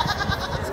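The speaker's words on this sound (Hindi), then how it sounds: "देखो कितना प्यारा बकरा" A goat at a bustling Dhobighat livestock market bleats in a short, wavering burst, close and fairly loud above the crowd's murmur.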